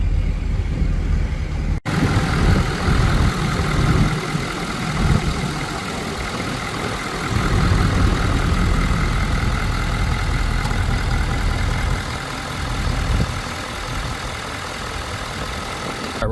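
A lifted 2018 Ford F-250 Super Duty Lariat idles with a steady, loud, low rumble that holds evenly for the whole stretch after a brief quieter opening, with no one talking.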